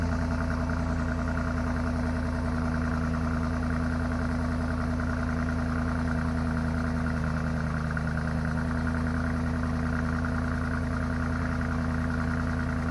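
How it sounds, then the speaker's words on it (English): A 2021 BMW X5 M50i V8 engine settles from a raised idle to a steady, quiet idle, a constant low hum with smooth engine harmonics running alone throughout. "now we're just down to a regular, very quiet, normal idle"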